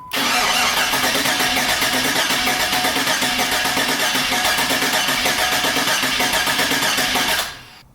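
A boosted 4x4 engine running at 16 pounds of boost during a launch, a loud, close, continuous roar with a rapid pulsing texture that holds steady for about seven seconds before dropping away.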